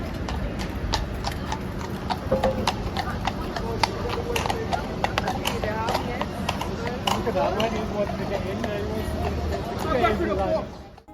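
Royal Guard horse's hooves clip-clop steadily on hard ground, close and continuous, with a murmuring crowd chattering throughout.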